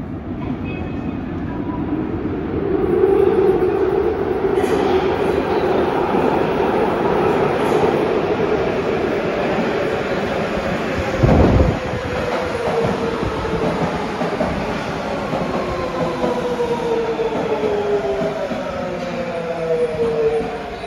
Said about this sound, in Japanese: A train is arriving at platform 4.